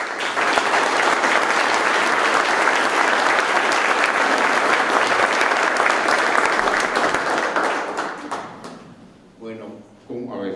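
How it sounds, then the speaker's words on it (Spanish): Audience applause at a book presentation, steady loud clapping from a crowd that holds for several seconds then fades out, followed by a voice speaking. "vamos a pedirle con un aplauso"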